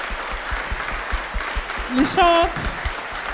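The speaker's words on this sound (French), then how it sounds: "On peut applaudir les musiciens, l'ensemble du Salem," Audience applause for the musicians and singers of a church worship ensemble, a steady wash of clapping running through the whole stretch while someone speaks over it and a sung or tonal phrase rises briefly in the middle.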